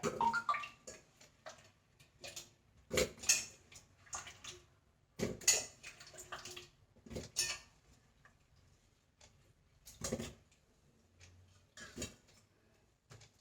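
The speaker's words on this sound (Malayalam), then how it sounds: "ഇനി ആ ഈ കാവത്ത് നമുക്ക് ഇതിലേക്ക് ഈ കുക്കറിലേക്ക് ഇട്ട് കൊടുക്കാം" Pieces of red yam are dropped one after another into a pressure cooker, making a series of sharp knocks and clatters with quiet gaps between them.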